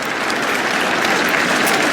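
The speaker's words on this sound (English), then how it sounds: "I think that's what everyone's applauding." Sustained applause from a cricket crowd at an England v India Test match as the lead reaches 300, a dense, even clapping throughout.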